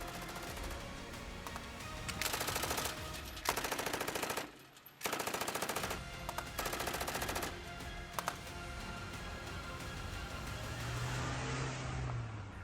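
Rapid bursts of automatic gunfire crackle in loud volleys with short pauses between them, over a constant roar of background noise, as armed men fire on police during protests in Iran.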